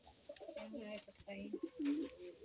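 A pet pigeon named Berto cooing in a fancier's loft, giving low throaty rolling coos with a rising final note, close and fairly soft.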